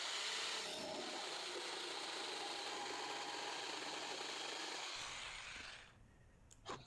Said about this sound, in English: I'm just going to finish the shoulder cuts up with the jigsaw